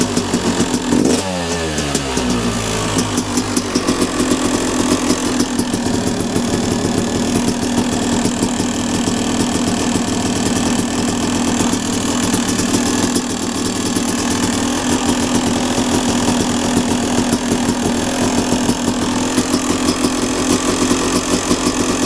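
Panthera E start engine running after its power valve was cleaned: a sharp startup followed by a loud, steady, close two-stroke-style idle with a rough, buzzy rattle lasting throughout.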